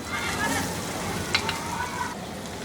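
Chopped chilies and garlic frying in hot oil with a soft, continuous sizzle, broken by a few brief scraping strokes as the mixture is stirred in the pan.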